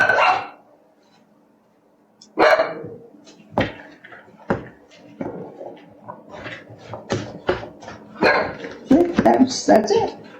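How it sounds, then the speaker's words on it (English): A pet dog in a home kitchen barks in short, sharp bursts that start after a quiet moment and come irregularly, mixed with speech and household clatter. "if you hear her bark, it's because somebody's coming in from work or school"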